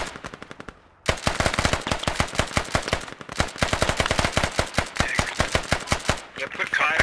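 Rapid automatic gunfire from the military shooter game Squad, sustained bursts of sharp close shots with brief pauses, loud and dense throughout, with faint radio-style voices underneath.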